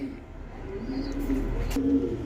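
High-flyer pigeons coo softly, a faint, low murmuring coo rising and fading a few times over steady background noise.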